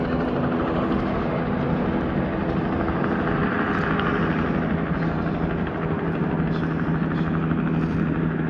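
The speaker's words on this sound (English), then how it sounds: "Got a helicopter taking off over there." A helicopter takes off some distance away, a steady rotor and engine drone heard from a small boat on the water, with faint voices over it.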